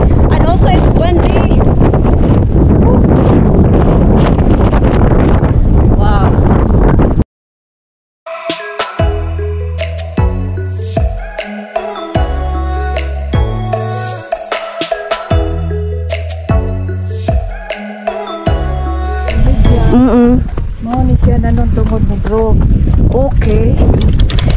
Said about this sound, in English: The weather here, it's so cold and also it's windy.